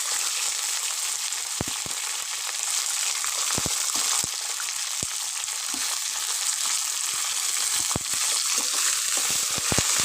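Onions fry in a pan with roasted peanuts and curry leaves, giving a loud, continuous sizzle with sharp pops and crackles scattered throughout and no voices.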